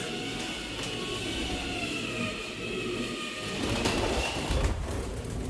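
Pigeons kept in a home loft during cold weather give soft, low coos that keep on through steady background noise and build slightly toward the end.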